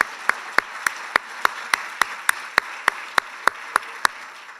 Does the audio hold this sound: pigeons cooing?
no